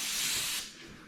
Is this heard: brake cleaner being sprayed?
yes